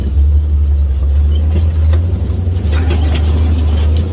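A side-by-side off-road vehicle engine runs steadily with a loud, continuous low rumble close by, holding a constant idle-like drone throughout with no voices.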